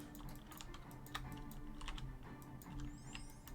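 Computer keyboard keys are pressed rapidly during a game jam playtest, a dense, close clatter of many keystrokes tapping continuously with no voice over it.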